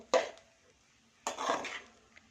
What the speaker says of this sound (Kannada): ಇದು ಚೆನ್ನಾಗಿ ಅನ್ನ ಎಲ್ಲ ಮಿಕ್ಸ್ ಆಗಬೇಕು ಎಗ್ ಜೊತೆ.